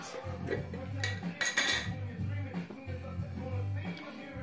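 A utensil stirs a thick cold-process soap mixture in a container, giving repeated scraping and soft clinking strokes in a steady rhythm, close up with no talking.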